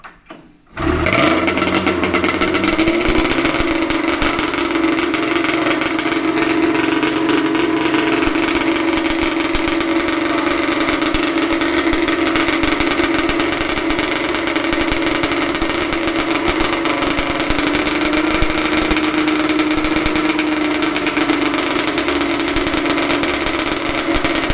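A small engine fires up on choke after a brief silence and settles into a steady, loud, continuous running drone with a buzzy idle that holds without letup.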